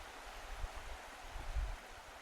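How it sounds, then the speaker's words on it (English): Outdoor stream running past on a quiet morning: a faint, steady wash of flowing water with a soft low rumble, alone and without voices. "looking out at the stream."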